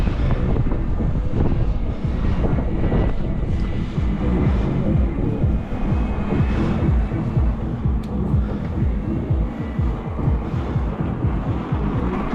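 Strong wind buffets the microphone while riding an electric bike along the coast road around Yalta in February, a constant rough roar with gusty swells throughout.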